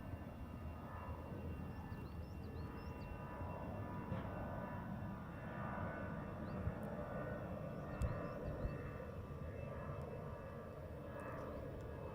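Air France airliner departing Heathrow runway 09R, a steady distant engine roar rumbling on throughout with faint bird chirps above it.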